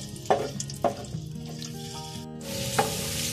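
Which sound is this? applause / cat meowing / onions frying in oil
onions frying in oil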